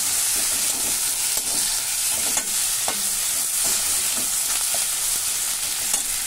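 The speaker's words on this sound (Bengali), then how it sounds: "আর হচ্ছে তোমার আলুটা মোটামুটি ভাজা ভাজা হয়ে গেছে" Potatoes fry in oil with cashews, raisins and ginger-garlic paste, a dense steady sizzle broken by repeated scraping stirs of a spatula, close and loud with no talking.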